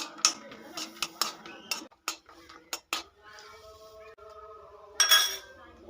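A spoon clinks and scrapes against a pan as cashews, crushed cardamom and cinnamon are stirred in ghee, sharp metallic taps in an uneven rhythm followed by quieter scraping, with a person speaking in between.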